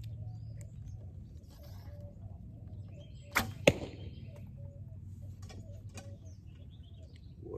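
A wooden arrow loosed from a Cabela's Thundor recurve bow gives two quick sharp cracks, release and impact, close together midway through an otherwise quiet outdoor stretch with faint bird chirps.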